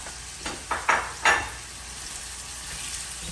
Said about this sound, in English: Okay, move them with the spoon.